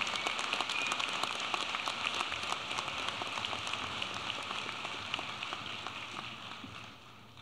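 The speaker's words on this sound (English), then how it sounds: "Let's give him another round of applause" A large audience claps steadily at the UAFS 2017 spring commencement afternoon ceremony, honoring an Army Reserve officer. The dense, even applause holds for about seven seconds with no voices, then thins out and fades at the end.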